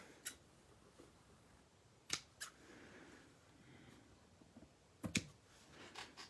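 Scissors make several sharp, quiet snips while cutting ribbon during Easter card crafting. The clicks come in an irregular series of isolated bursts against a faint, hushed background.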